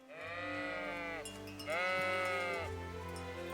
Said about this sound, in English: Can I pet the sheep? Oh, they might all just run away.